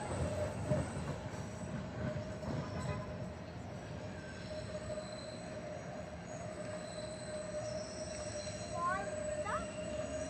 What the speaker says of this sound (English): there goes a train on the elevated again